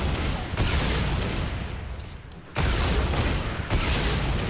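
Dense, continuous minigun fire in the Fortnite video game, a loud sustained roar of rapid shots that dips briefly mid-clip before resuming at full force.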